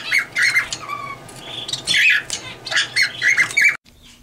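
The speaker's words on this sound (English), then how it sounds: "this one up here is a spice finch" Small finches, including a spice finch, in a flight cage chatter and squawk in quick, close bursts, several calls overlapping, before the noise cuts off abruptly near the end.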